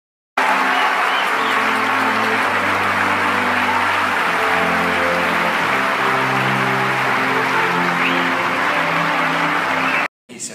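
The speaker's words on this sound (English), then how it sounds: "They make us clap now." Sustained applause from an audience at an Oscars party fills the whole stretch, dense and steady, with a low musical hum beneath, ending abruptly.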